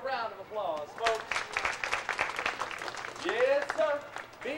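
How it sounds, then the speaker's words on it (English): An amusement park show audience at Six Flags Over Mid America claps through the middle of the scene, a steady patter of applause from a small crowd, while voices speak over it at the start and end. "Let's give her a round of applause"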